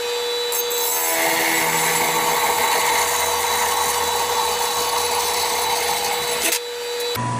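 A power tool cuts and drills a brass pen blank, a steady loud high-pitched grinding whine sustained for several seconds before cutting off abruptly near the end.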